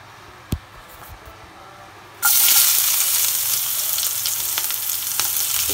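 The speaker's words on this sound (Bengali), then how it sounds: "এবার আমি এই তেলের ভিতরেই মশলাপাতি সব দিয়ে দিব এক এক করে।" Spices dropped into hot oil burst into a loud, close sizzle after a quiet start with a single knock, the crackling hiss then holding steady to the end.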